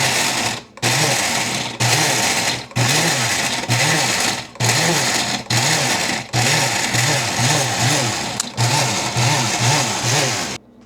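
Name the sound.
blender blending Oreo cookies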